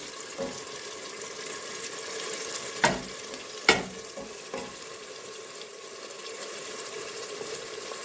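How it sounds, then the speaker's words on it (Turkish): Soft, steady sizzling from a pan of tomatoes and green beans with occasional scraping stirs and a few sharp clacks of a utensil against the cookware. "Güzelce kavurmaya devam ediyoruz."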